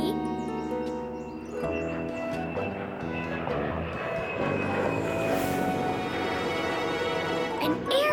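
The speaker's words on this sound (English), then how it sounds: "Actually, it's a jet plane. It's a passenger jet plane." Cartoon passenger jet plane flies overhead with a sustained whooshing engine roar, accompanied by light bird chirps and bright musical tones.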